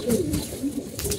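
An old-breed pigeon coos in a low, rolling murmur, the soft throaty calls repeating steadily through the whole short stretch at close range with no talk over them.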